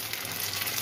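Chopped coconut fries in a tempering of dry red chilli and whole cumin for chana dal, a brief, steady broadband sizzle with no talking.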